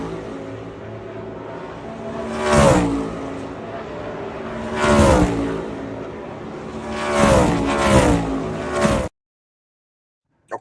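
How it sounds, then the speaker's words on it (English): NASCAR race cars roar past one after another, each engine swelling loud and fading with a Doppler sweep, three passes over steady track noise before sudden silence. "it's literally just cars on a track"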